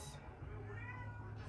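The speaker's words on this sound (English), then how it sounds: "sorry if you hear my cat in the background." A pet cat meows in the background, quiet tonal cries rising in the middle of a soft, steady room hum with no clear talk.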